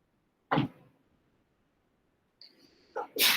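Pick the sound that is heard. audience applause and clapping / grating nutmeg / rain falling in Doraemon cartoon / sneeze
sneeze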